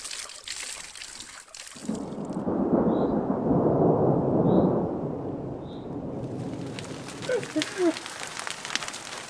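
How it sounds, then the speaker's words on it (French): Steady hard patter of hail drumming on a surface in the Pyrenees mountains, swelling in the middle and easing off, with faint voices near the end. "heureusement qu'on s'est mis à l'abri parce que là c'est de la grêle"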